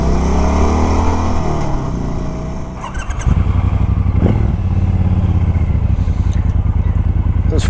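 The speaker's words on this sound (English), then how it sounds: "comparison of both motorcycles on the same roads at the same speeds" A motorcycle engine rumbles loudly up close, dipping briefly before settling into a fast, steady pulsing drone as it rides along.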